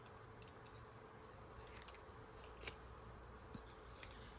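Small precise scissors snip paper while working on a spring journal, a few quiet, scattered cuts over a faint, steady background.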